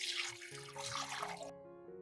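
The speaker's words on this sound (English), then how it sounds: "I will fill the jars with water up to the lid" A short burst of water pouring and splashing into a pot holding jars of meat, filling up to the lids, faint and close, with a low hum underneath; no one speaks.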